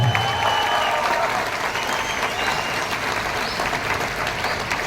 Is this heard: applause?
yes